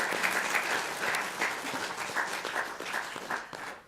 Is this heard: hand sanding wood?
no